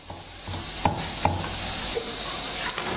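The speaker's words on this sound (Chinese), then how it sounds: "鱼香我们给它切碎" A knife chops fish mint herb on a cutting board: two sharp, close knocks followed by a few lighter taps against a low background hiss.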